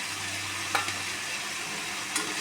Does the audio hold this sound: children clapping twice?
no